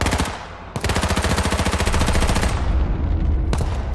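Rapid automatic gunfire in the H1Z1 Battle Royale video game, a loud sustained burst of closely spaced shots with a brief pause before it and a short break near the end, with no talk over it.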